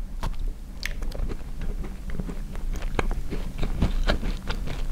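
Bites and chewing of a frozen basil cookie, with crisp crunches repeating close to the mic over steady mouth noise and no talk.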